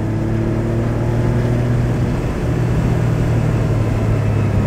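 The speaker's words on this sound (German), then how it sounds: "Also er läuft ja wirklich traumhaft, der Wagen" A 1989 Porsche 911 Speedster engine heard from inside while driving, a loud, steady, smooth hum with a deep even tone that holds with only a slight dip, no talking.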